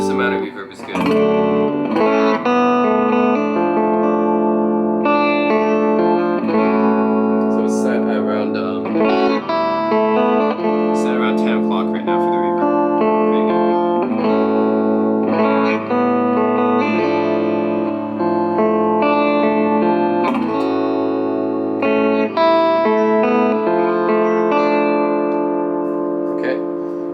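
Clean electric guitar tone through a Milkman amp with light reverb: a continuous, close passage of picked notes and chords, steady and unaccompanied for nearly half a minute.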